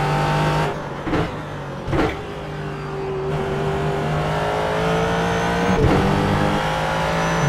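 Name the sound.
race car engine driving a track in iRacing video game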